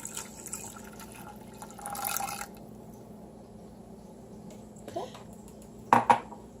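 Water is poured into a pan of melted butter for gluten-free churro dough, giving a brief splashing rush followed by faint drips and a couple of sharp clinks of metal cookware.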